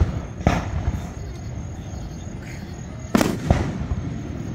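Fireworks burst over a lake on the Fourth of July, a few sharp booming explosions spaced seconds apart, with a lower rumble of distant shells and faint crowd murmur between them.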